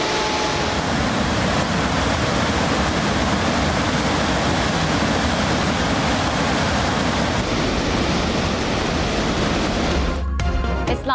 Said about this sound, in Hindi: इस्लामाबाद के रावल डैम में पानी की सतह बुलंद, स्पिलवेज खोल दिए गए।